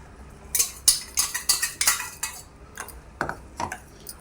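A spoon clinks and scrapes against a metal vessel in quick repeated strokes, stirring ground almonds and cardamom into milk, close and crisp, pausing briefly before a few more taps.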